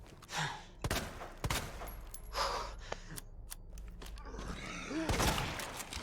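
Gunfire in the Resident Evil 2 video game, in the underground parking garage: several sharp shots scattered across the moment amid other game sounds, with someone talking over them.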